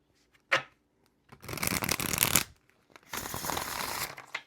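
Mythos tarot cards riffled in two long shuffles, each a dense fluttering rush of cardboard lasting about a second, preceded by a single sharp tap, with no voices.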